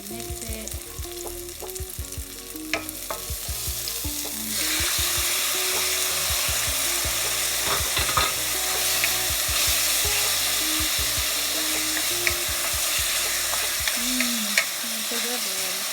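Eggplant and chicken teriyaki with bell pepper and sugar being stir-fried in a pan, a loud steady sizzle that swells after a few seconds, with scraping utensil clinks scattered throughout.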